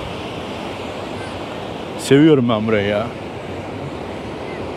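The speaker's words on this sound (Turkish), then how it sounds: "Şu denizin güzelliğine bakar mısınız? Yani insanı gerçekten dinlendiriyor bu ses." Sea waves wash onto a beach as a constant broad surf roar with wind, steady from start to end, while someone briefly speaks over it midway.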